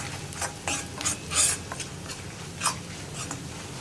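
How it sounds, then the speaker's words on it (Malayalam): Yam stir fry being stirred in a pan on low flame after chilli powder is added, with soft scraping and rubbing strokes of a spoon at an irregular rhythm, close and fairly quiet, with no talking. "ഇനിയിപ്പോൾ നമുക്ക് മുളക് പൊടി ചേർക്കാം. ഇത്രയാണ് കേട്ടോ ചേർക്കുന്നത്. ഇനി ഇതൊന്ന് ഇളക്കി കൊടുക്കുക."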